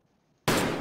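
A single loud gunshot in Escape from Tarkov, bursting suddenly out of near silence and ringing on as a dense blast that has not yet decayed.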